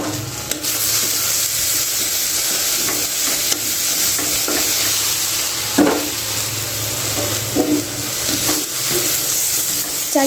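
Okra (bhindi) fries in a pan with coriander and cumin, a constant close sizzle broken by repeated scraping stirs of a spatula against the pan.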